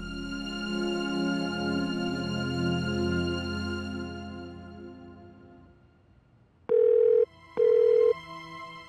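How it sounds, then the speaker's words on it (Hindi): A sustained electronic tone fades out, then two short loud telephone ring bursts sound in succession with a brief gap, going unanswered. "फोन क्यों नहीं उठा रहे?"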